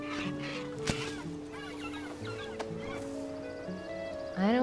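A hen in the Broken Age video game clucks and squawks in a few short bursts over steady game music, fairly close and clear.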